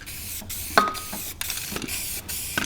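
Short bursts of spray-paint hissing from a can of flat paint come in quick succession, separated by brief pauses, fairly close.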